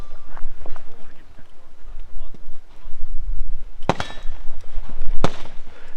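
Gunshots fired on a practical shooting match stage at Finnish Brutality 2024: two loud, sharp cracks stand out clearly against steady outdoor background noise, with fainter pops earlier on.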